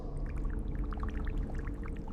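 Bubbles rising and popping in water near a rocky floor, a run of small bright pops and gurgles over a low, steady rumbling wash.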